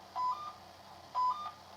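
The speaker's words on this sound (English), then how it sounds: "you can hear that beep has changed." A BondingBuddy far-end telecom test device on a shorted copper pair sends out paired electronic beeps, two clear repeats about a second apart, each a short bright double tone over a low steady hum.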